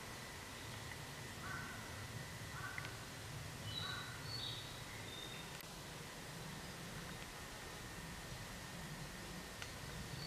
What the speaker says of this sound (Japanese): 野鳥の鳴き声が聞こえます。